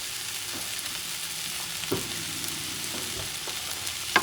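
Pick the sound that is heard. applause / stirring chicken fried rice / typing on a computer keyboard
stirring chicken fried rice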